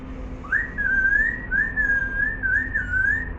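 A young child of three to five imitates a parrot with one sustained, warbling whistle that wobbles up and down for about three seconds, close and clear, alone.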